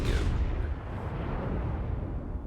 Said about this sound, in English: this is going to be a very punishing salvo